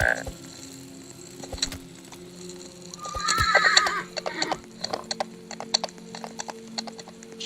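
A horse whinnies loudly nearby in a video game forest, a shrill rising-and-falling neigh, amid scattered clip-clopping hooves and shuffling movement.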